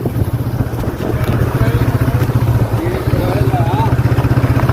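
An Apache RTR 180 motorcycle rides steadily with a continuous close engine drone and wind rumble throughout, on a bike trip to a temple.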